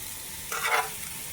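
Chicken fried rice with shrimp, vegetables and egg frying in a pan, a steady sizzle with a brief swell of stirring and tossing near the middle.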